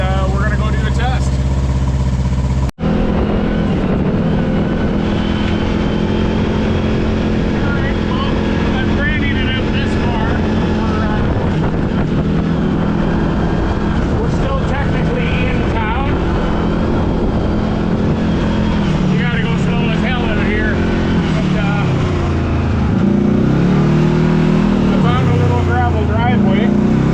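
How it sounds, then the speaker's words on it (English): A Kawasaki KRX side-by-side engine fitted with a Brute Performance fuel pump runs loud and close, a steady droning idle with a brief start at the beginning and rising, wavering revs near the end, with someone talking over it at times. "I'm gonna let it run for a while"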